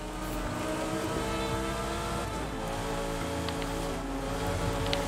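A Lamborghini drives in the racing game Forza Horizon 5, its engine droning steadily and loudly throughout with a constant roar and faint shifting tones, with no speech.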